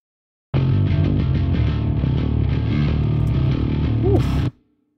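A thick, distorted bass guitar line with deep sub-bass underneath, from a production breakdown of a song, plays for about four seconds, then stops abruptly.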